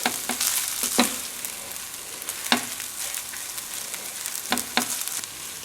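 Rice and cheese frying in a pan, a soft continuous sizzle punctuated by several sharp scrapes and knocks of a spatula lifting and turning the mixture.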